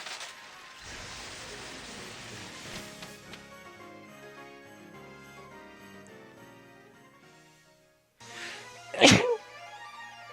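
A sudden loud sneeze bursts out near the end, close and sharp, after several seconds of Pokemon Sword game music that drops out just before it.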